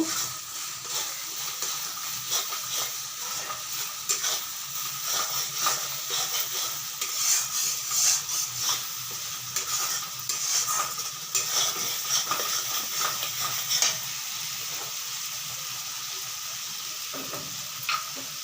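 Pangas fish curry in a pan on raised gas flame gives a loud, steady sizzle and hiss after a little water is added, continuous for the whole stretch with faint stirring clicks and no talk.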